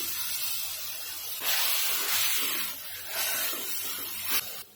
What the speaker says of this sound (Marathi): यात 1 चमचा आहे ना आलं लसणाची पेस्ट जाडसर कुटून घेतलाय ना ते टाकले